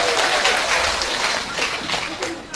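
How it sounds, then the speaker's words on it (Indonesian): A church audience applauds a men's vocal group during a service, a short burst of dense clapping at steady loudness with voices mixed into it. "Tepuk tangan dulu buat vokal grup kaum bapak."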